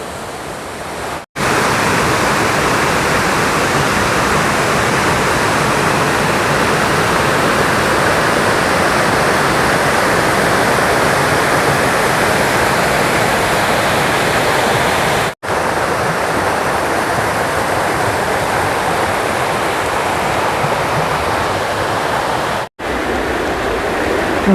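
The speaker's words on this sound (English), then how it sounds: "Just a quick glimpse of this creek here that we're following." A creek along the Appalachian Trail rushes steadily near a bridge crossing, a loud, close, unbroken wash of flowing water with no voices.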